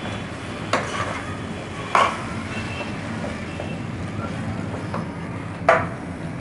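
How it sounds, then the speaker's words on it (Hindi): Brinjal being stirred in a cooking pan with spice paste, a quiet steady scraping and shuffling under low background noise, punctuated by a few sharp clinks of the spoon against the pan. "हमने ये बैंगन को अच्छी तरीके से चला लिया है।"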